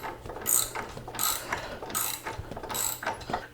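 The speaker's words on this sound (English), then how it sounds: "So I'm going to use a ratchet on the other side to tighten that with" A ratchet wrench tightens a nut on the fuel tank crash bars of a 2019 Triumph Tiger 800XCx, giving four bursts of rapid clicking at a steady rhythm, close and moderately loud with no talk.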